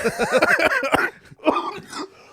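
A burst of harsh, rapid coughs from one person, close up, followed by a shorter cough after a brief pause.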